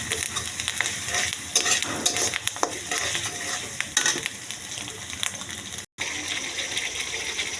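Onion sautéing and being stirred in a pan with ginger-garlic paste and whole cloves, cinnamon, cardamom and peppercorns. A steady, close sizzle fills the scene, with scraping stir strokes and a brief gap near the end.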